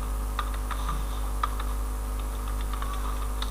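Typing code on a computer keyboard, with quick irregular key clicks at close range over a steady low hum, no voices.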